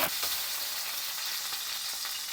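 Hamburger patties fry in a pan with a steady, bright sizzle, close and continuous, with faint crackles and no speech.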